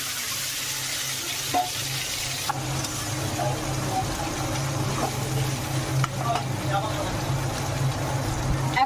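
Marinated fish goes into hot oil seasoned with dried chilli, bay leaves and cumin, and sizzles steadily and closely in the pan. Faint clinks and a low hum sit under the frying, with a voice speaking partway through.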